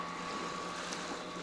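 A motorboat with a Tohatsu 9.8 outboard passes by, a faint, even motor drone with a thin steady whine, heard from a distance over open water.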